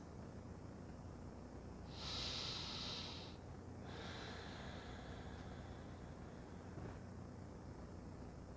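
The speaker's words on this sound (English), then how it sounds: "just beginning to take a round or two of breath through the nose" Slow breaths drawn in through the nose during a calm home yoga stretch, one long soft inhale clearly audible, then a fainter second breath, over quiet room hiss.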